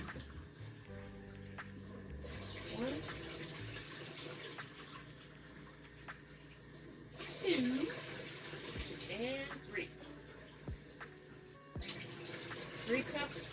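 Warm water runs from a kitchen tap into a mixing bowl for bread dough, a steady splashing stream with a few clunks and handling noises, close by with no talk over it.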